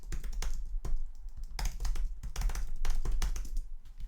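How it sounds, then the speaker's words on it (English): Fingers type on a computer keyboard in quick, uneven bursts of close, clicky keystrokes with brief pauses between runs. "I cannot even type right now."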